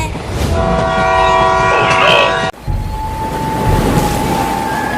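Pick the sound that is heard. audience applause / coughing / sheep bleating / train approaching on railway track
train approaching on railway track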